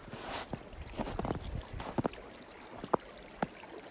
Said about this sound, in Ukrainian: Друзі, це не якісь там ефекти, це просто річка шумить.